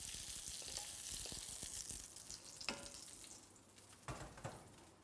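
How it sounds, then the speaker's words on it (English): Onions and button mushrooms sizzle in a pan with steady, faint frying hiss. A few soft clicks and stirring knocks occur now and then. "These are still sizzling away here"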